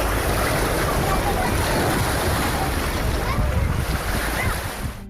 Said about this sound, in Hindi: बुरहानपुर रोड पर अब नदी की धार बहने लगी है